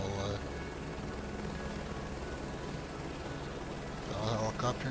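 A helicopter idles steadily nearby in Microsoft Flight Simulator 2024, a continuous dense rotor and engine roar that swells slightly near the end, with a voice talking over it.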